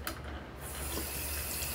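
Lukewarm water pours from a tap into a sink during a facial treatment, a steady close rushing stream that holds its level throughout with no voices over it.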